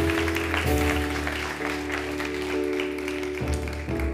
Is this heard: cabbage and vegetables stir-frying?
no